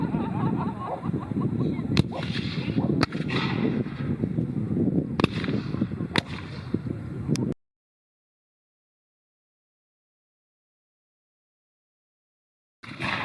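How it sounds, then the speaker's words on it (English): Sharp rifle shots crack at a Civil War reenactment battle, several distinct reports within a few seconds over crowd noise and wind, followed by a long stretch of silence. "there's quite a bit of smoke that's developed by firing rifles, and also the cannons here in a bit"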